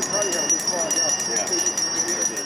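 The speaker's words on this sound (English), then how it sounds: "Volunteers are ringing bells outside stores" Bright, repeated hand bell ringing by Salvation Army Red Kettle volunteers outside stores in Worcester, with a steady metallic shimmer beneath overlapping chatter and general street bustle.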